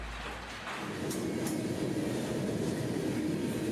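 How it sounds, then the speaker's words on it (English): Southbound freight train B631 pulling out of Bensenville, a steady low rumble and rolling clatter of railcars that swells in and holds at a constant level. "B631 gets a crew and departs Bensenville southbound"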